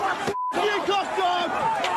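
Angry crowd of protesters clashing with police, a dense roar of shouting voices and chaotic babble, loud and close, briefly cut by a short tone before the din resumes.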